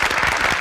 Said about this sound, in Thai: ชื่นชมก็ต้องปรบมือให้ทั้งสองทีมครับ